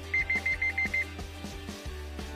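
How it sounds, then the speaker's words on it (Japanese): A Suzuki Wagon R weaving warning alarm sounds six short, evenly spaced electronic beeps in quick succession, clear over a low steady in-car hum, followed by a few soft clicks. "ふらつき警報機能"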